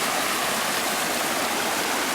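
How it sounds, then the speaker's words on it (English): A Colorado mountain river rushing past a cabin site, a dense, loud, unbroken wash of flowing water heard from close by with no voices. "Build your cabin right next to the river, fresh water all year round."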